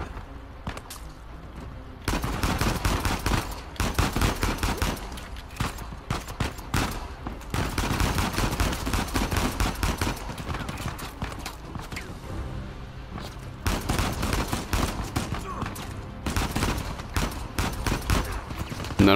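Rapid gunfire bursts from the Uncharted 4 video game, dense and loud, coming in sustained volleys with brief lulls, mixed with action sound effects.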